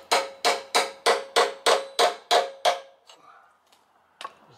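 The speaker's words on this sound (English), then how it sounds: "I'm gonna fold the seal a little bit without touching anything with a chisel." A hammer strikes a chisel to work a jammed seal loose on an Allison transmission from a Timberjack 360 skidder. Eight sharp, evenly spaced metallic blows ring out up close, then a soft scrape follows and one lighter tap ends it.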